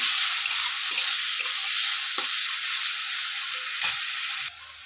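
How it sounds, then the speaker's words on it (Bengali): Small diced potatoes fry in a pan of oil for kalmi shak chorchori, a steady close sizzle with a few soft spatula knocks, easing off sharply just before the end. "আলুগুলো ভাজা হয়ে গেছে"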